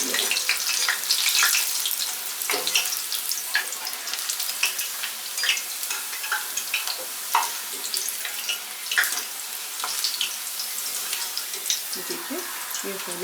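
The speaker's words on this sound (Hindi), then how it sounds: "अब जब तक ये गोल्डन ब्राउन ना हो जाए तब तक इन्हें हम" Banana slices frying in oil over a high flame, a continuous bright crackling sizzle with bubbling, close and moderately loud, steady throughout.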